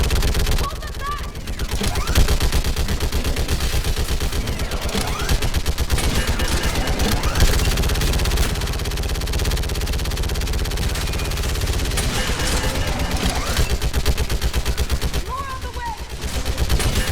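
Sustained automatic gunfire from a Mass Effect 3 battle on Thessia, loud and nearly continuous with rapid bursts throughout, under shouted voices and combat effects.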